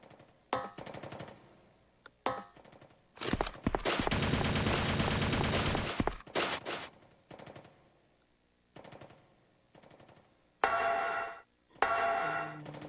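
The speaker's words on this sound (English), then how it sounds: "There were enemies there shooting at me" Enemy gunfire in Resident Evil Survivor: sharp shot bursts and one sustained automatic volley lasting a couple of seconds, with scattered quieter pops and later rapid bursts, no talk over it.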